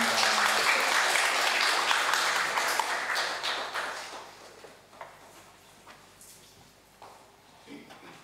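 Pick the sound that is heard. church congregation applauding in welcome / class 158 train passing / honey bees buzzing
church congregation applauding in welcome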